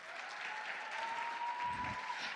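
An audience applauds at a solo cosplay contest at a Japan-themed convention, a steady wash of clapping heard from a distance, fairly faint, with a brief low thump midway through.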